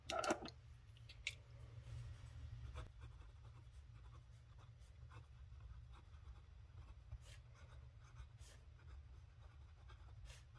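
Pen scratching steadily across Amazon Basics paper, a quiet, continuous writing sound with small strokes and taps, close and faint over low background hum.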